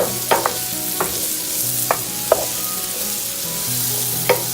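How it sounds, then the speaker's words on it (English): Mushrooms sizzle steadily as they fry in butter in a pan for a gluten-free Tuscan chicken mac and cheese, with a utensil clicking against the pan several times as it stirs. "So I'm going to add all of that, stir it around a bit."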